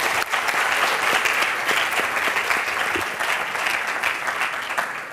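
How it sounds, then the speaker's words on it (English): Dense, steady applause from an audience at a Ghanaian national science and maths quiz event, many hands clapping loudly and continuously for about five seconds with no talking. "I think they deserve another round of applause."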